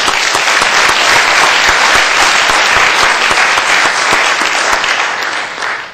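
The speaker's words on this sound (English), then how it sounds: "So I'm going to ask that we give ourselves a round of applause" Dense, loud applause from a conference audience thanking panelists at a development panel discussion, a continuous wash of many hands clapping that holds steady for several seconds and fades slightly at the end.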